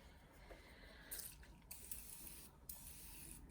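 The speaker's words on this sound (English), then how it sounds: "I'm gonna go in with the setting spray to spray this side of the face." Short hissing bursts of a spray bottle, a few quick pumps close by, over a quiet background.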